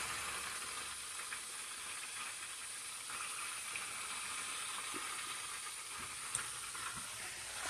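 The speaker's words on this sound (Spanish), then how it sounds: "Hay que dejarlo ahí que se fría bastante de un lado" Food fries in plenty of oil in a pan, giving a soft, steady hiss and crackle that stays faint and even throughout with no talking.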